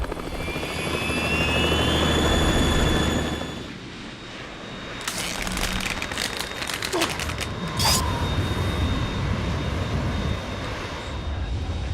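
A Harrier jet in Metal Gear Solid 2 roars loudly with a rising engine whine, then drops away as sharp metallic bursts and impacts crackle through the game scene.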